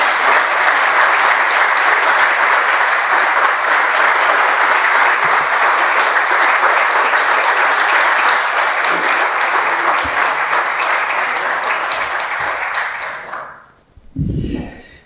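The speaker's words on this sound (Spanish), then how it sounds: "un fuerte aplauso para don Joaquín Araujo." A crowd at a conference applauds loudly and steadily for a long stretch, then the clapping quickly dies away, leaving a brief pause and a faint stir of sound.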